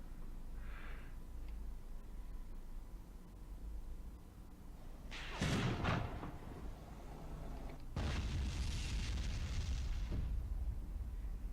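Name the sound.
mortar fire explosions in video game Graviteam Tactics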